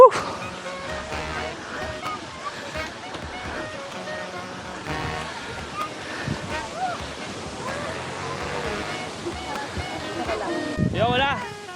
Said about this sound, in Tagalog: narinig na namin yung ingay ng madaming tao kasabay ng sobrang lakas na hangin